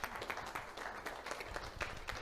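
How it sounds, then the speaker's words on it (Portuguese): A small audience at a workplace mental-health session for a water company gives soft, quiet applause, with individual claps distinct in a loose, uneven patter. "De salva de palmas aí para a Luciana."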